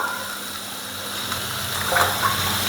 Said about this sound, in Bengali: একটু পানি ছুটে দিয়ে দেবো,